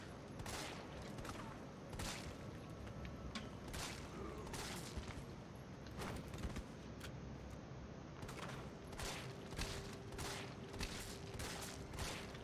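Resident Evil 3 gunfire sounds as repeated sharp shots spaced through a steady, noisy game soundscape, moderately loud and close, with a faint tone late in the clip.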